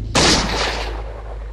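A single sharp flintlock pistol shot from Eternal Darkness bursts out loud and close, then trails off in a long, rumbling echo with no voices.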